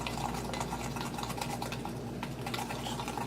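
Cuban coffee and sugar whipped by hand in a small plastic cup, giving a close, steady, fast scraping and stirring rattle that keeps going the whole time with no talking.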